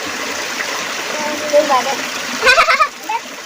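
Clear water flows and tumbles down in a village stream, making a steady close rushing splash as a voice speaks over it.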